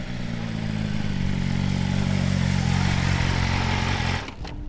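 A BMW M1000RR superbike's engine at a drag race, a loud sustained low roar held steady up close before it suddenly drops away near the end.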